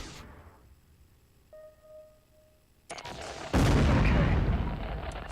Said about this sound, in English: that was a lot of explosion